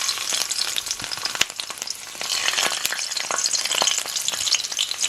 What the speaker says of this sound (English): I'm gonna just put the garlic and the pepper in the oil